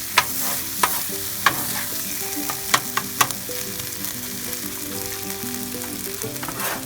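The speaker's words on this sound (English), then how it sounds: "we're mixing everything together with that rice we've been working on, getting all that just perfect with the teriyaki and the soy sauce" Fried rice with frozen vegetables, teriyaki and soy sauce being stirred on a Blackstone Adventure Ready 22-inch griddle at a campsite, a steady sizzle broken by several sharp scraping clicks of the spatula against the flat top.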